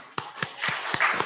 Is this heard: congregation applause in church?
yes